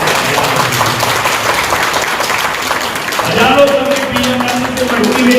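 An audience claps during a motivational speech, a dense rustle of applause for a few seconds before a voice rises over it and carries on.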